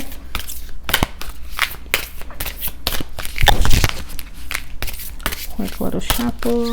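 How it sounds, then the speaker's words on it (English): Tarot cards being shuffled by hand, a run of quick crisp riffling snaps and papery slides close up, with a person speaking at points between the bursts. "so let's do a quick little shuffle"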